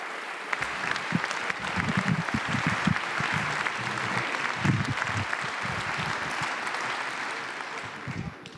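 Members of the French National Assembly applaud in the chamber, a dense sustained clapping that swells early and holds steady for several seconds before easing off, with a few voices underneath.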